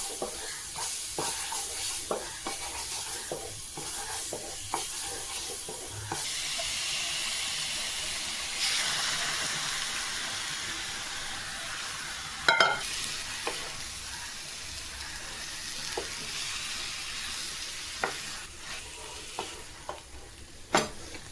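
Spices stirred and frying in a hot pan for a curry dish being cooked in India, a steady sizzling hiss with scraping stirring strokes and occasional sharp clinks of the utensil against the pan, close and continuous.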